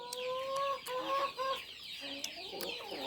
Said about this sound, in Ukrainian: Півень цей тут, давай, виходь.